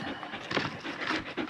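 A dog pants heavily and rapidly in close, rhythmic breaths, loud and right up near the listener.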